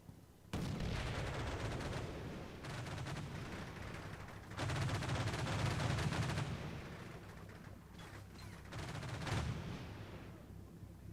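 Gunfire in the video game Combat Mission Shock Force 2, with bursts of rapid shots and sustained volleys coming in several waves, loud and close, alternating with short lulls.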